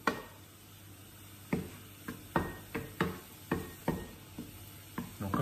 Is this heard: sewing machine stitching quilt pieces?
no